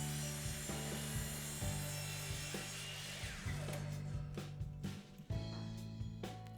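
A hand saw rasps back and forth through scrap wood branches cutting miters, rhythmic strokes up close with a few pauses between them and no talking.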